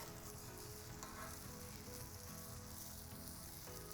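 Strips of bacon frying on a Breeo X Series Sear Plate over a fire, a dense continuous sizzle and fine spatter, close and even, with a couple of faint clicks.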